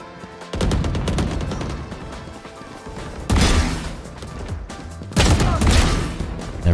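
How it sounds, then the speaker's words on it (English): Short bursts of video game gunfire, spaced a second or two apart between quieter stretches of gameplay noise, loud and close with no talk over them. "I recommend doing 2 to 4 bullet bursts between every strafe."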